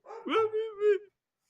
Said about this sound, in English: y'all got to hear a dog barking in the background.